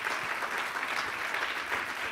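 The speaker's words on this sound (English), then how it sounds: "Please give them your applause." Theater audience applauding at an anniversary production, a steady dense wash of many hands clapping that stays loud and even throughout, with no voices over it.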